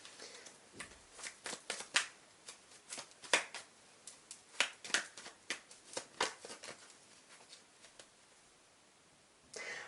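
Tarot cards are shuffled by hand in a rapid series of crisp riffling snaps and flutters, close and fairly quiet, irregular in rhythm with a brief pause near the end.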